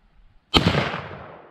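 A single sharp shot from a Winchester 1892 saddle ring carbine in .25-20, fired outdoors at jugs, cracks loud and close and then rings out in a fading echo.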